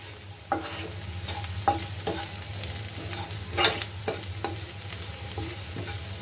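Onions roasting in a pan while bitter gourd (karela) curry is being prepared: a steady frying sizzle runs underneath a scatter of sharp scraping clicks from a spatula being stirred every second or so.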